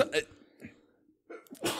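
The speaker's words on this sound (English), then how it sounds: "Got a little sneeze fit there" A person sneezes amid a brief fit, with short sharp bursts near the start and end separated by quiet and breathy sounds; a voice talks around the bursts.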